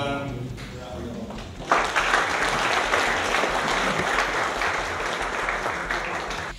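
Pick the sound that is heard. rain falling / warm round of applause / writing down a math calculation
warm round of applause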